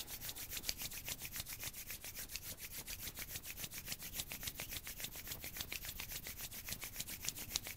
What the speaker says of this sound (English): And rub the hands together.